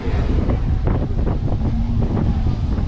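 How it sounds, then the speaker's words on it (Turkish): Strong wind gusting hard against the microphone on a city street in Norwich, England, a loud continuous rumbling roar with no voices. "Oldukça da rüzgarlı."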